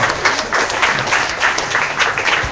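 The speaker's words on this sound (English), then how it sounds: "Give you guys a round of applause." A crowd applauding, dense steady clapping that fills the whole stretch without pause.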